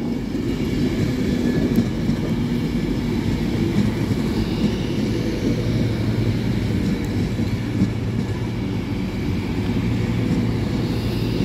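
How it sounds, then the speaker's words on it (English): An Avanti West Coast Class 390 electric train, unit 390125 bound for London Euston, pulls into Stockport station with a steady, loud low rumble and a wheel-and-motor roar that hold evenly throughout. "390125, Avanti West Coast. This service will be going to London Euston."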